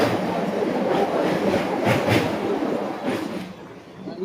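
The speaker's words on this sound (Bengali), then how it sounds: "আমাদের ট্রেন ছেড়ে দিল দেশপাল স্টেশন" Santragachi–Digha Fast Passenger train pulling out of Despran station on its first day of running, a steady close rumble of wheels and carriages with faint rhythmic clatter, easing slightly toward the end.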